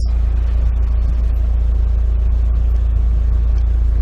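A 2003 Mitsubishi Lancer Evolution 8 RS drives with a loud, steady low engine rumble and road drone filling the cabin, unbroken and without talk.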